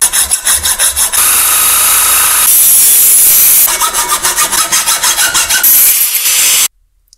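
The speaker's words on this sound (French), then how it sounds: "L'idée ça va être de couper le tube en biais pour fabriquer un angle." A metal turbo tube for a Seicento Abarth 1.1 is cut at an angle by hand saw, loud rhythmic rasping strokes in fast regular bursts, pausing briefly between runs before stopping abruptly.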